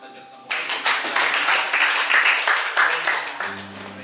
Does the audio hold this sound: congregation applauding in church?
yes